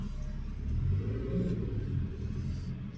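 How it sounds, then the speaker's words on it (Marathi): A child drives a toy car, a low steady motor rumble that swells slightly and then settles, close by with no voices. "आता लिशांग गाडी चालवतोय"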